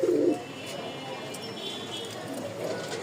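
A pigeon gives a brief low coo at the start, then only a quiet background hiss follows around a coop where a bird sits on its eggs.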